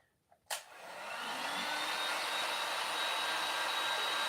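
A hair dryer drying the edges of hair clicks on after a couple of small taps, then blows with a loud, steady whoosh that ramps up and holds close to the microphone.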